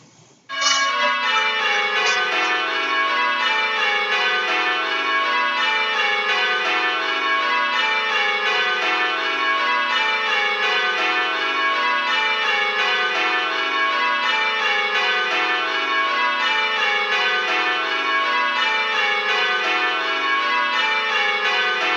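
Church bells ring in change-ringing rounds for a striking exercise, a continuous loud sequence of clear peals descending in repeated rows with steady even rhythm, a faulty bell slightly mistimed at backstroke.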